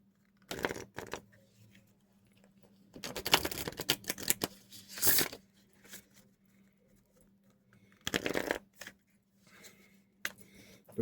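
Meditation cards are shuffled in bursts of quick papery riffling and flicking, close and crisp, with quiet gaps between three or four rounds and a faint steady hum underneath.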